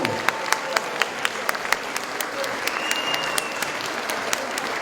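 A concert audience applauds steadily at the close of a Turkish folk music choir and orchestra performance in Ankara, with a dense wash of clapping and individual sharp claps standing out at an even pace, moderately loud.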